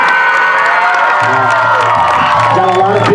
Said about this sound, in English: Again, big clap for them.